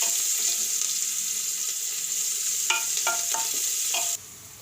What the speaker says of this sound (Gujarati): તો ડુંગળીને સરસ રીતે આપણે ગોલ્ડન બ્રાઉન જેવી થવા દેવું।